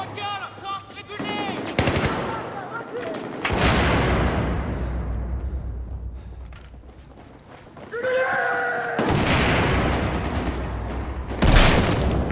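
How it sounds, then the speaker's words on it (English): Gunfire and a grenade explosion in Battlefield 4 on the Operation Locker map: several loud broadband bursts, one with a long rumbling decay, mixed with rapid shooting. "Watch out, I'm tossing a grenade."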